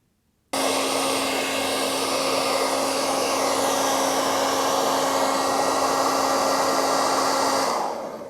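A hair dryer blows steadily across a washed computer motherboard. It starts abruptly and roars loudly and close for about seven seconds with an even whining hum, then winds down at the end, with no voices.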